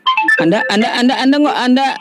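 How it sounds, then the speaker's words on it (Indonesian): A telephone ringtone plays loudly and close, a bright melodic tune of shifting tones running continuously, with a brief spoken word at the start. "Apa itu suara telepon ya bang ya?"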